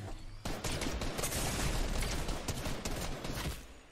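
Charge SMG gunfire in Fortnite Battle Royale rattles in a sustained rapid burst of shots lasting a few seconds, fairly quiet in the mix with no talk.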